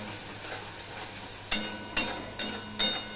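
Katla fish curry masala being sautéed in a pan, a low steady sizzle followed by four evenly spaced scraping strokes of a spoon against the pan, close and moderately quiet.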